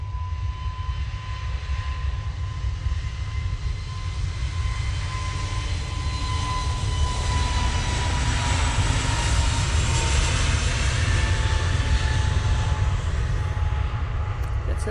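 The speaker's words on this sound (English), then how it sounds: "2321 Neo now departing, and they're off to Vienna" An Airbus A321neo jet departing Manchester Airport for Vienna roars steadily and loudly for the whole stretch, a broad continuous engine rumble with a faint whining tone, near and unbroken, no voices over it.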